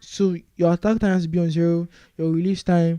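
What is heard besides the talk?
No distinct noise like a dog, phone or traffic.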